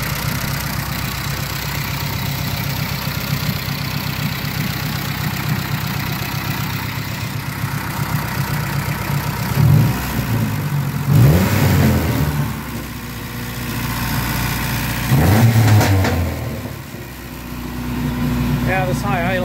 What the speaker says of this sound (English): this high idle thing is kind of annoying